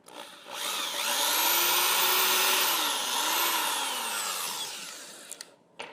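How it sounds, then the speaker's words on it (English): A power drill whines up to speed, its pitch rising and dipping as it bites into material, then winds down with a few clicks. "And I drill the second one."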